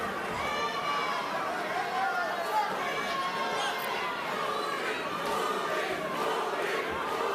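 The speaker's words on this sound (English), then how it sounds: "a chant of Purin going for Caraballo" Boxing arena crowd at the Jonas Sultan versus Carlos Caraballo fight, a dense roar of many voices with a rhythmic chant rising through the steady hubbub, continuous and fairly loud throughout.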